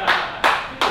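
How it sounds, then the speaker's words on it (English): A round of applause at a night build of an HZ One Tonner: three sharp, bright bursts of clapping about a third of a second apart, loud and close, with no voices. "Round of applause."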